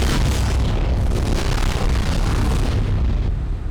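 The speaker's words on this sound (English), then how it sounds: "you're supposed to hide in one of the 2 intended places until a big explosion happens" A valve-triggered explosion in the Mirror's Edge video game roars as a loud, sustained, rumbling blast that fills the whole stretch with dense low-end noise before easing slightly at the end.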